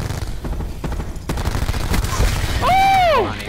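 Rapid bursts of gunfire in Black Ops 4 multiplayer rattle close and loud, followed by a rising and falling whistling tone, with a voice speaking over the action.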